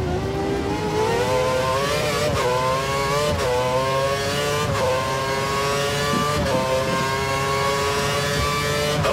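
A Lotus Formula 1 car in F1 2013 at the Belgian track screams at full revs, loud and close. The engine pitch climbs and drops back with quick upshifts every second or so.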